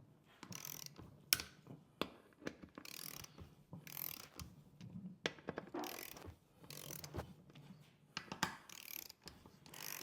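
A ratchet wrench clicks in short bursts while tightening lug hardware on a new Weld Racing Alumastar wheel fitted with a Mickey Thompson 28x10.5 PBR radial tire, with close, repeated ratcheting strokes and brief pauses between them.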